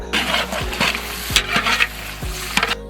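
Chicken pieces with green chilies and turmeric get stirred in a sizzling pan for a biryani, a steady frying hiss broken by several scraping strokes of a spoon against the metal, close and clear with no talk.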